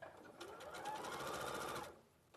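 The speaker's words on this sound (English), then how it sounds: "So the longest stitch length you've got on your machine, just literally baste that in place." A sewing machine runs a long basting stitch, a close, steady whirring hum with a rapid needle rhythm that lasts about a second and a half and then stops, with no talk over it.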